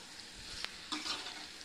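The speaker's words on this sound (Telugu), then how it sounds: "ఈ చికెన్ని వేసేసి ఒకసారి మిక్స్ చేద్దాం" Washed, cleaned chicken pieces tipped into a hot pan for an Andhra-style chicken curry, giving a soft sizzle with a sharp clatter partway through, then a brief stirring scrape and fry as the pieces are mixed, fairly quiet throughout.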